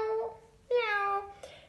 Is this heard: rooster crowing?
no